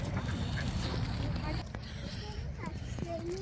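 Ducks quack at an artificial lake in a park, a few short calls scattered through steady outdoor background noise while people talk nearby.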